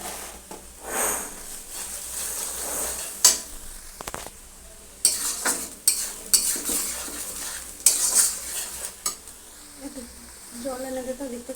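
Spices and onion are stirred in a pan while cooking tarka, with repeated metal scraping and clinks over a soft sizzle, and a person talks at intervals.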